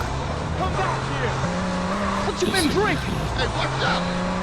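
In GTA San Andreas, a game car's engine drones and shifts pitch while tires squeal and skid, with a brief rougher clash midway, all at a constant loud level.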